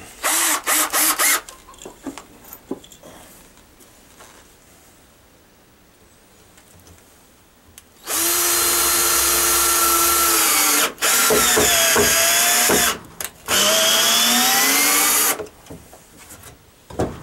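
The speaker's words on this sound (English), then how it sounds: "Put a screw in." Power drill driving a screw into wood while building a rabbit trap, three loud sustained whirring bursts close by with short pauses between, following quieter handling sounds.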